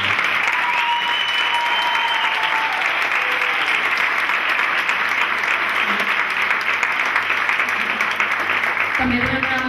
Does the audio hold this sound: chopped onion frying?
no